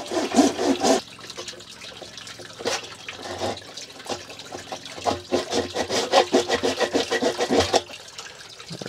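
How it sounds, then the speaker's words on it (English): A razor saw cuts through a plastic tank fitting in short, rhythmic rasping strokes, close and moderately loud, with the strokes speeding up into a steady back-and-forth before stopping. "This is a razor saw from Koyuko?"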